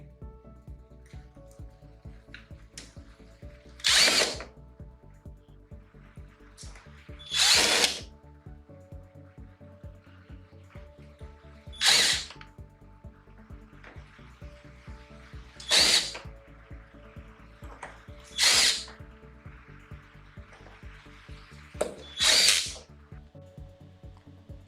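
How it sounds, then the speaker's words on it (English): Power tool tightening nuts on a Roxtec RSUG underground cable seal, working in a diagonal pattern, with six short loud bursts spaced a few seconds apart against a quiet hum. "Now it's time to tighten the nuts."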